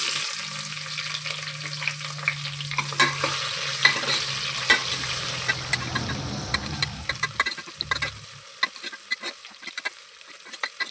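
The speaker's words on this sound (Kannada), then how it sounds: "ಇದನ್ನು ಸೇರಿಸ್ಕೊಂಡು ಚೆನ್ನಾಗಿ ಫ್ರೈ ಮಾಡ್ಕೊತೀನಿ" Chopped onion fries in a pan with dried red chillies, a steady close sizzle broken by frequent scraping stir strokes and clinks. A low droning hum runs through the first eight seconds.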